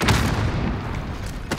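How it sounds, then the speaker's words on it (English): A grenade blast in a first-person shooter video game, a single dense low boom rolling for over a second, close and loud, with no talking. "Throwing nade."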